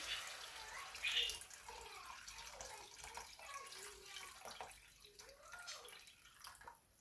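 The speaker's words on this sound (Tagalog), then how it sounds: "it's time for me to add the water, okay, from the kettle" Water pouring from a kettle into a pot of chicken soup: a faint, close trickle with a louder splash early on, then a thin burbling stream that tapers off.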